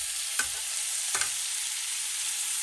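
Pork shoulder paella ingredients with grated tomato are stirred in a pan: two quick scraping strokes over a soft, continuous sizzle, fairly quiet and close, with no talking.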